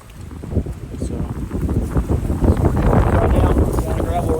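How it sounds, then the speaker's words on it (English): Strong wind buffets the microphone on a gravel road beside a pasture on a Texas day in January, a steady low roar with gusts that build toward the end. "A nice Windy day."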